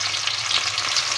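A large onion, finely chopped, fries in hot cooking oil for a masala chana dal, giving a steady, dense, close sizzle with no pauses and no voices.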